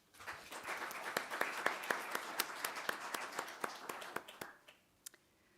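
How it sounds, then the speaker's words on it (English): A congregation meeting room full of people applauds, many hands clapping steadily for several seconds before the sound thins out to a few last claps. "share your love for Tanya with a round of applause"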